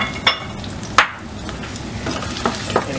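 Coarsely cut onions fry in a little oil in a pan for a capsicum and potato curry, giving a steady close sizzle broken by a few sharp scrapes and stirring knocks, with no talking.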